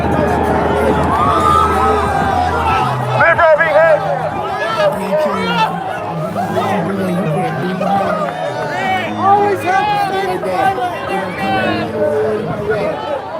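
Crowd at an outdoor pro-police/Trump rally in Seaside, Oregon, with constant loud chatter, overlapping voices and bursts of cheering and shouting, a dense unbroken hubbub throughout.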